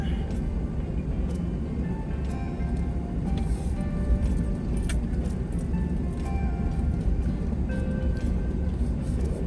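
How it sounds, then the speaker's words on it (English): A pickup truck rolls slowly into a free campsite along Gardner Canyon Road in the Coronado National Forest, its low, steady engine rumble running throughout with faint jangling rattles on top. "Nose the truck up in here"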